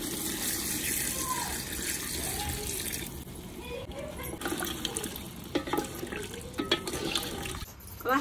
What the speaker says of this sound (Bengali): এবার সামান্য জল দিয়ে তারপর ঢেকে রান্না করে নেব।